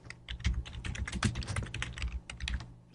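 Fingers type on a computer keyboard in a rapid, steady run of close, crisp keystrokes that continue throughout with no pause.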